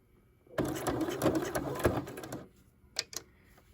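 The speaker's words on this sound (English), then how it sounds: "And then back stitch." A sewing machine back-stitches a face mask in one loud, steady run of about two seconds. A few quieter clicks and taps follow once it stops.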